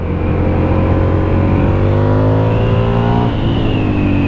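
A Husqvarna Nuda 900R twin-cylinder motorcycle accelerates hard, its loud engine note rising steadily through the revs with a brief dip as it shifts, heard up close and continuous.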